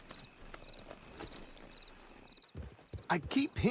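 Horse hooves clip-clop at a steady walking pace in Red Dead Redemption 2, moderately close and fairly soft, with a voice talking over the final second.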